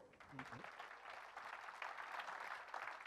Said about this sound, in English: And now to our big cheer for them.